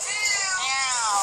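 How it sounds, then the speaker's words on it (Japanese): A house cat meows in one long, loud, drawn-out wavering cry that rises and falls, heard close and alone. "猫だわ。"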